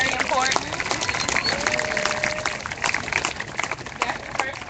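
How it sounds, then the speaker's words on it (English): Crowd applause at an Occupy SLU open dialogue gathering, a sustained patter of many hands clapping at moderate volume, with voices and murmur mixed in. "everybody giving themselves a round of applause for showing up to participate today"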